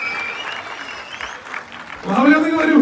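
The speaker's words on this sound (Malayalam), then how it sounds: "നിറ കയ്യടിയോടുകൂടി സ്വാഗതം ചെയ്യാം നമ്മുടെ മഹാബലിയെ" Audience applause greets Mahabali as he comes on stage at a Dubai gathering, steady clapping under a host's voice that swells louder near the end.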